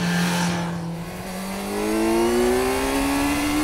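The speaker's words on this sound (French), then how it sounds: "Passage de vitesse, rétrogradage, c'est vraiment très bien géré." A Kawasaki Z900 four-cylinder motorcycle runs through quickshifter gear changes, its engine note dipping briefly at a shift and then climbing again in a smooth, loud, close rise.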